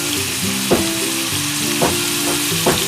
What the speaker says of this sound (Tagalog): masarap to pag ginigisa sa kamatis yung tahong mga body